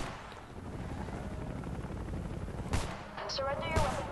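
Gunfire in the Homefront video game, a few sharp bursts standing out from a continuous dense background of combat noise, with a faint voice nearby.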